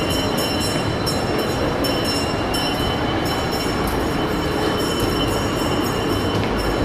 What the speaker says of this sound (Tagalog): Oh, train, Roy.